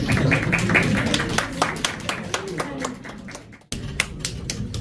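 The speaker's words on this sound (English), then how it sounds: "I welcome everyone to join all of us to give him a round of applause." A small audience at an International Mother Language Day poetry event claps for a poet. The claps are sparse and distinct and trail off toward a brief silence, then pick up again with a few more.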